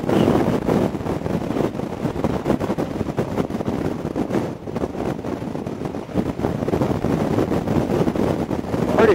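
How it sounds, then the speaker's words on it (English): Wind buffets the microphone on a moving Honda Goldwing motorcycle, a loud, continuous low roar with gusting swells, no voices heard. "You get a lot of wind on this thing."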